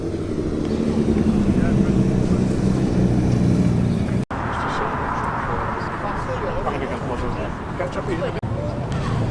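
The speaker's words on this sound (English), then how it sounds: "I could hear some probably 80s or 1990s lorries approaching round the roundabout" Heavy classic 1980s or 1990s lorries rumble and drone steadily around a roundabout in Cheshire, with a broad engine roar that shifts as traffic moves through.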